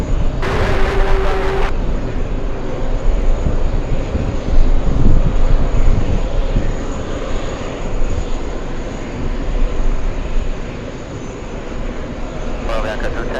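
A trijet airliner at JFK airport roars with a broad, sustained engine rumble that swells and fades, while radio chatter crackles in at the start and end.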